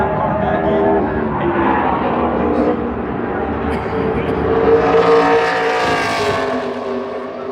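NASCAR Xfinity Series race car running a qualifying lap at Phoenix Raceway, its engine roaring steadily and loudly throughout, swelling as it draws nearer, with a commentator talking over it.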